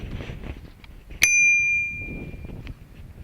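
A tap-down bell on a Wazzajack table cricket wicket struck once, giving a bright single ding that rings and fades over about a second against a low background murmur.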